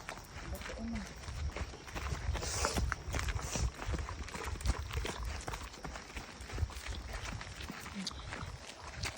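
Quick running footsteps of a woman jogging on a park path, a steady patter of soft steps under excited family chatter and a voice.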